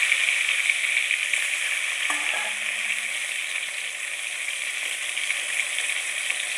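Chopped tomatoes and green chillies fry in hot oil with bay leaf and dried red chilli, giving a steady, even sizzle throughout, broken only by a brief light clink partway through.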